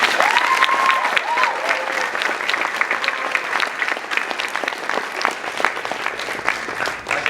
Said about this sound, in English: I think those guys deserve another round of applause.